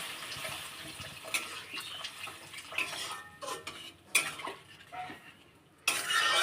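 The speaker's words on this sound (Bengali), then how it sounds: "এবার পরিমাণ মতো জল দিয়ে দিতে" Water poured into a pot of bhetki fish bone curry with potatoes, a splashing pour mixed with clinks and scrapes of a utensil against the pan, uneven and close.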